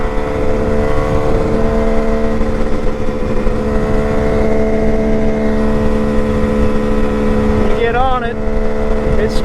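Kawasaki KH500 H1 two-stroke motorcycle engine droning steadily while riding, loud and close with sustained tones, a brief rise in pitch near the end, wind noise throughout.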